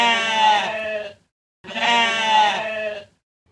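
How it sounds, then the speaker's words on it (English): A black sheep bleats twice, two long wavering calls of about a second each separated by a short pause, loud and close with no other sound around them. "I see a black sheep looking at me."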